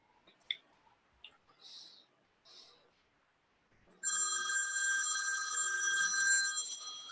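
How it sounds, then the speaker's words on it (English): A mobile phone rings in a council committee meeting, a bright repeating electronic ringtone that starts suddenly after a few scattered clicks and taps and continues steadily at moderate volume. "My phone will go off a few times tonight."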